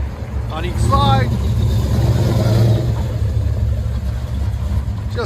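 A cammed 2016 RAM 1500 pickup with a 5.7L HEMI V8, long tube headers, high flow cats and Flowmaster 44 side exit dual exhaust rumbles steadily and loudly, with a voice talking over the engine.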